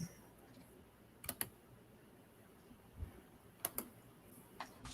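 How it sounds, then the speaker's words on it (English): Rapid bursts of computer keyboard or mouse clicking, a few quick pairs of sharp clicks spaced across a quiet background, fairly faint and close. "furious clicking"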